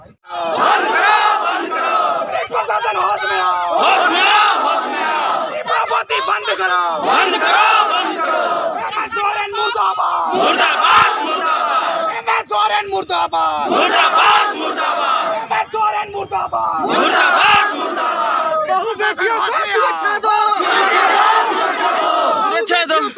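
Angry villagers at a justice protest chant and shout loudly in unison, a dense, continuous crowd roar with rhythmic slogan bursts throughout.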